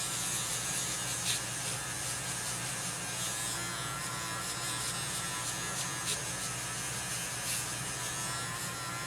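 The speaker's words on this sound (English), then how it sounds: "once you're done with the first application, obviously turn your Dremel off" A Dremel rotary tool polishing the body of a Tamiya Ferrari SF70H model car, running as a steady, continuous high-pitched whir with faint rubbing texture, close and constant throughout.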